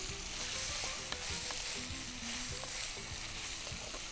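Paneer cubes and mushrooms frying together in a pan make a continuous soft crackling sizzle, steady and fairly quiet throughout, with faint stirring clicks and no talking.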